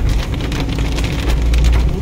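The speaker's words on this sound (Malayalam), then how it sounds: "നല്ല മഴയുണ്ട്" Heavy rain falls in the Nelliyampathi hills of Kerala, a close, loud and continuous downpour drumming on surfaces without a break.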